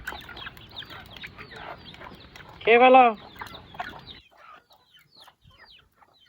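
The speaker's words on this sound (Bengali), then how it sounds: "এগুলো আমার স্বপ্নের দেশি মুরগি" Desi hens cluck softly around a feeding spot, with one louder squawk bursting out near the middle before the birds grow faint and sparse; a person speaks briefly among them.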